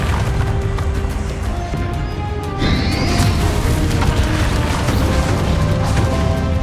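A Confringo blasting spell explodes in the Hogwarts Legacy video game, a heavy boom within a loud, continuous battle din.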